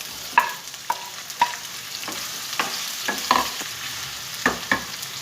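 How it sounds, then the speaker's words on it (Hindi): Onions going into hot oil and being stirred for an aloo methi dish: a steady sizzle of frying with intermittent sharp scraping and clinking stir strokes, moderately close, no talking. "अब सबसे पहले मैं इसमें प्याज डालूँगी।"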